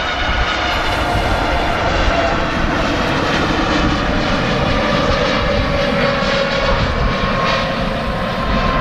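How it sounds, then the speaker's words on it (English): A Boeing 787 Dreamliner climbing after takeoff from Manchester Airport, a loud, steady jet engine roar that holds without a break throughout. "Positive rate on the climb of the 787 Dreamliner."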